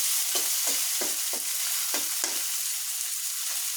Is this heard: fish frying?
yes